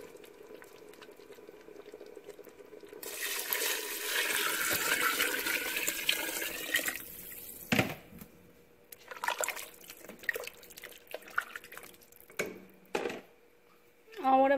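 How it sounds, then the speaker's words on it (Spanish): Water pouring in a rushing splash into a pot of simmering vegetables and tomato sauce for Mexican meatball soup, followed by bubbling and clatter, heard up close. "es momento de agregar el agua."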